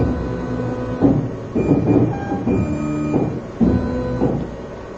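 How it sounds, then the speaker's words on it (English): The Z axis autofocus on a CO2 laser cutter drives its stepper motor in short bursts, a series of tonal whirring pulses roughly every second, close and fairly loud. "now we're ready to press the autofocus button"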